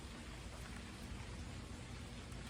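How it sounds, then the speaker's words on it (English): Steady rain falls outside a home after a drive, a dense even hiss close by that runs through the whole stretch with no talk. "It's still raining."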